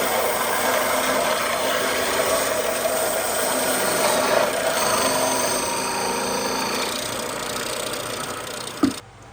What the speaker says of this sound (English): So we're using the power sander because we have it, right?